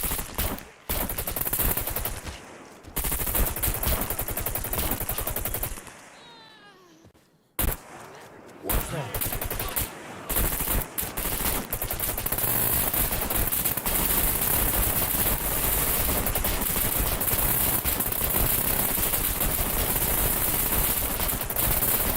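Gunfire rattles through the survival game SCUM: loud bursts of rapid shots break off into short pauses and quieter stretches, then the shooting resumes as a long, almost continuous barrage.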